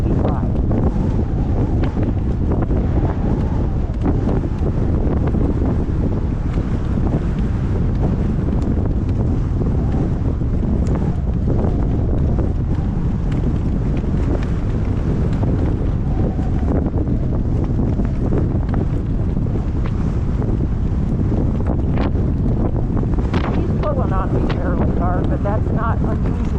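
Gale-force wind storm: loud, continuous gusting wind buffets the microphone for the whole stretch, with someone talking intermittently beneath the roar.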